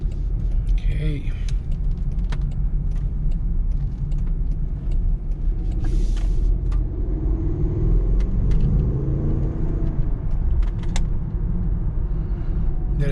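2023 Range Rover Sport First Edition P530 V8 driving in dynamic mode: a deep, steady engine rumble and road noise from inside the cabin, with light clicks and someone talking over it.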